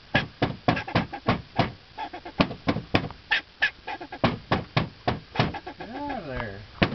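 An angry squirrel near a boat ramp gives rapid, rhythmic barking chirps, sharp and close, repeating in a steady burst with a quavering call near the end.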